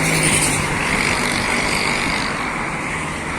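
Dense road traffic with many cars moving along a road, a steady broadband roar of engines and tyres that eases slightly toward the end, with no speech.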